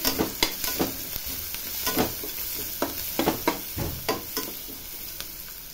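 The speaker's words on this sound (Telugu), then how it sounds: "క్యారెట్, ఆనియన్, పచ్చిమిర్చి బాగా వేగింది." Carrot, onion and green chili fry in a pan with a steady sizzle, while a spoon repeatedly scrapes and knocks against the pan in irregular taps, close and fairly loud, with nobody speaking.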